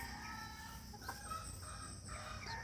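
Sweater pullet chickens clucking and calling close by, with a few short squawky notes over a steady rustling farmyard background.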